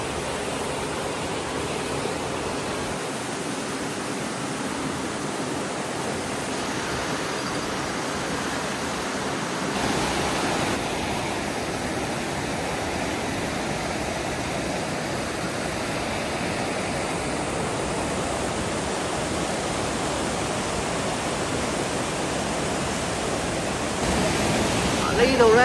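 Rushing river water roars at the confluence of two rivers on the route from Danba to Barkam, a dense, continuous wash of sound that holds steady and swells slightly toward the end.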